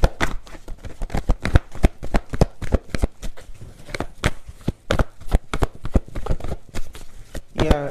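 Tarot cards being shuffled close up, a rapid run of crisp riffling slaps and flicks that repeat steadily throughout, with a brief fluttering riffle at the end.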